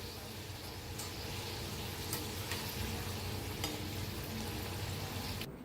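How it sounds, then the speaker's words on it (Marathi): Sweet jaggery and peanut karanji pastries fry in hot oil, giving a steady dense sizzle with occasional stirring clicks of a utensil against the pan, continuous and close. "सगळं असंच तळून घेते."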